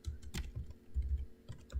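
Quiet typing on a computer keyboard, a quick irregular run of soft close key clicks with no voices.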